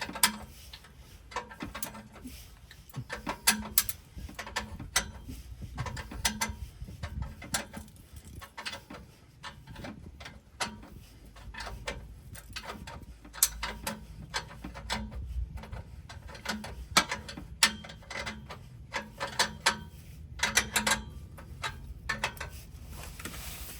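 Exhaust clamps being loosened on a Porsche Cayenne during an exhaust modification, heard as a long run of quick close metallic ticks and clicks, like a ratchet wrench working, with irregular louder clicks throughout and no speech.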